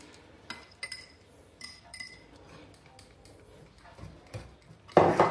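Spoon scraping and clinking against a bowl while egg yolks are stirred into a cooled pudding mixture, scattered clicks and taps with a louder burst of clattering at the end.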